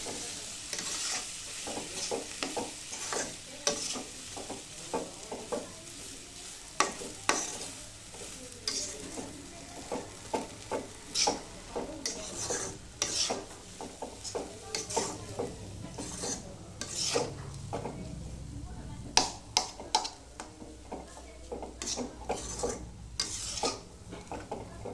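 A spoon stirs phodnicha bhaat, tempered rice, in a pan with repeated scraping strokes over a faint, steady sizzle, close and fairly quiet, with no voices.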